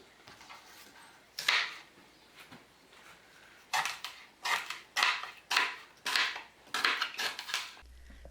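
Rhubarb stalks are chopped into small pieces on a board, giving a string of sharp, close chops: a few spaced strikes at first, then a quicker irregular run.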